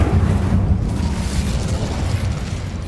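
An Incendio fire spell cast in the Hogwarts Legacy video game, a loud continuous roaring whoosh of flame with a deep rumbling low end that holds steady throughout.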